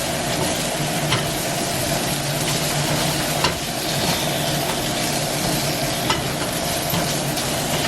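Bell peppers and spice stirred in a sizzling frying pan, a steady loud hiss of frying with soft scraping stir strokes and a few light clicks throughout.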